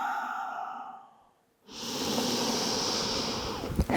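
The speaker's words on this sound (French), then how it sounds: "on va prendre quelques respirations de retour au calme" Calm breathing while resting in child's pose near the end of an intermediate Pilates session: a soft exhale fades to near silence, then a steady, hissy breath sound rises and holds close up, with no talking.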